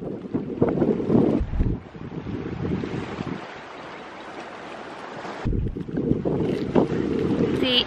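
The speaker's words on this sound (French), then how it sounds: "T'as le vent au visage, le bruit des vagues que vous entendez sûrement." Lakeside waves wash and splash at sunset while gusty wind buffets the microphone in loud bursts, easing into a quieter stretch of lapping water before the gusts return.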